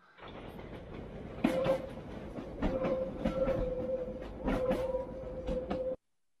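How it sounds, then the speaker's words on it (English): A London Underground train rumbles out of a tunnel with rhythmic clickety-clack of wheels on rails and a steady high squeal, growing louder, then cutting off abruptly. "here's the train coming out of the tunnel"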